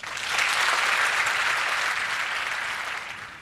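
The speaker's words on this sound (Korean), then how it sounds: "지금까지 명쾌, 상쾌, 통쾌한 답변을 해주신 강사님께 감사의 박수 드리겠습니다." A seminar audience gives a steady round of clapping for a lecturer after a Q&A, a dense, even patter that swells quickly and fades gently toward the end.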